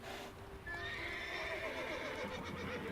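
Horses neigh and whinny over a steady background of hoofbeats and ambient noise, several calls overlapping at moderate distance, in the video game The Witcher 3.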